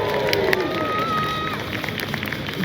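Crowd of spectators cheering at a Warwick Castle outdoor show, a sustained noisy roar of many voices with whistles and shouts mixed in, loud and steady throughout.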